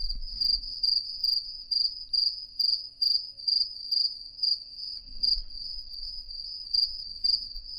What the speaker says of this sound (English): Hear them cricketing.